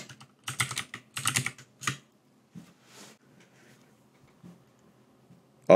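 Keys clatter on a computer keyboard as a text prompt is typed in bursts of quick clicks, with pauses between the runs and a louder thump at the very end.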